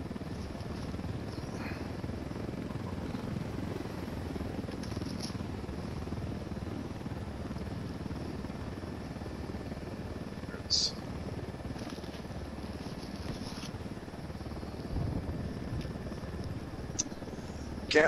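Helicopter rotor thrum in the open-world shooter Ghost Recon Wildlands, a steady dense low roar holding throughout with a few faint clicks above it, and a voice talking intermittently over it.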